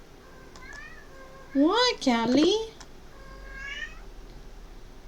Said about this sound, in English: So I'm sorry if you hear the cat meowing.